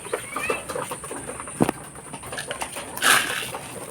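Pigeons kept as racing birds and breeders coo while being fed in a loft, soft low calls close by mixed with fluttering and scattered clatter, a steady high whine in the background and a brief louder flurry near the end.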